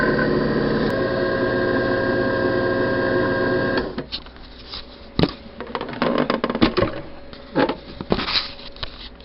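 JFJ Easy Pro polishing machine running with sandpaper, a steady loud mechanical whir with hum that cuts off after about four seconds, followed by scattered clicks and handling noises.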